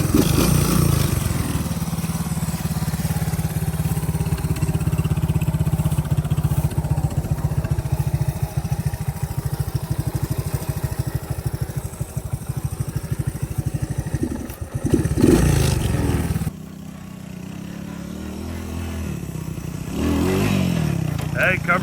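A Honda three-wheeler ATV engine runs steadily while being ridden, a close, buzzing mid-pitched drone that surges near the end, with people talking over it.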